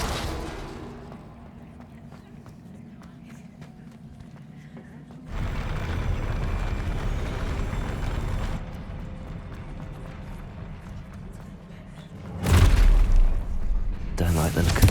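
An Incendio fire spell is cast in Hogwarts Legacy, bursting into a loud, roaring whoosh of flame that holds for a few seconds, then a second sharp fiery blast follows near the end.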